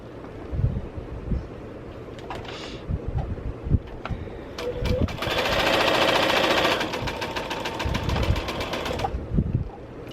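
A sewing machine runs a regular quarter-inch seam on Stack n Whack quilt pieces, with short stitching bursts and a sustained, loud run of rapid needle clatter in the middle, nearby and alone.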